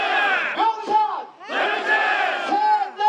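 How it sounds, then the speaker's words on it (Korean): A large outdoor crowd at a peace-city ceremony in Pyeongchang cheers and shouts loudly as dove-shaped balloons are released. There are two long swelling waves of voices with a short dip between them. "힘찬 환호와 함께"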